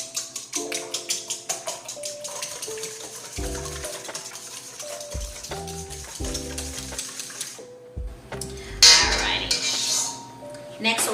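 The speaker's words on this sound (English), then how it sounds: "whisk up these eggs" Eggs whisked in a bowl for an oven French toast casserole, a run of quick rhythmic clinking taps close by, with brief pauses, while a person talks over it.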